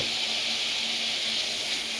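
Garam masala, cardamom and cloves sizzle in a hot pan, a steady soft hiss that stays constant and fairly quiet, with no voices over it.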